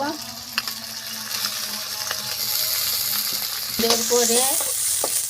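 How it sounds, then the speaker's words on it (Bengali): Chopped garlic, onion and green chili fry in hot oil with a close, continuous sizzle, broken by metallic clinks and scrapes of a spatula against the pan toward the end. "সুন্দর করে আমি রসুন, পেঁয়াজ, কাঁচামরিচ একটু ভাজা ভাজা করে নিব।"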